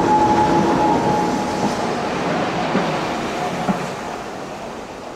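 A Class 159 diesel multiple unit train runs through Sherborne station as a steady, loud rolling rumble that fades slightly, with faint wheel clicks and a brief tonal hum early on.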